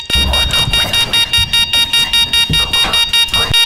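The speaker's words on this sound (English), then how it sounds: "Why is the alarm going off?" A loud electronic alarm blares in rapid, evenly spaced pulses, repeating steadily without pause for the whole stretch.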